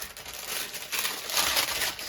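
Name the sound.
parchment paper crinkling while being handled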